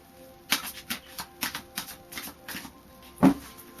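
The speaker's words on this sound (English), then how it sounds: "So I'll just do a final shuffle for you." A Psychic Tarot card deck is shuffled by hand: a quick series of crisp riffling snaps and soft card slaps in an uneven rhythm, close and clear, ending on one louder slap, with no talking.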